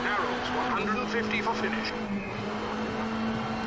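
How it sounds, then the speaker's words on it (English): A rally car engine in WRC 8 drones at steady revs through a tunnel, a continuous hum with a reverberant tone, while someone talks over it. "I love how the engine sound changes when you go through the tunnel."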